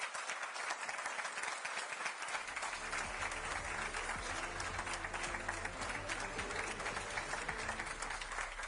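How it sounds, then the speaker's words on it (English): Studio applause closing a live EU political broadcast from Brussels, steady moderate clapping lasting several seconds, joined partway through by a low musical hum underneath. "A round of applause."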